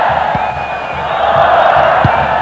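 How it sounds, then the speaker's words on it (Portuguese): Packed football stadium crowd in a 1994 Palmeiras versus Corinthians Paulista championship match chanting olé, a loud sustained roar of massed voices filling the whole stretch with a steady, even swell. "Torcida gritando olé muito cedo"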